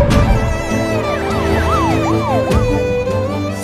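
An ambulance siren from a scene in the film 777 Charlie wails in rising and falling sweeps over a loud, dense sound bed, continuous and prominent.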